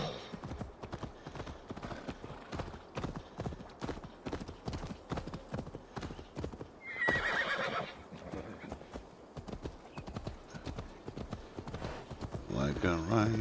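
A horse in a video game clip-clops in a steady trotting rhythm, with a whinny partway through and another near the end, while a person talks over the hooves.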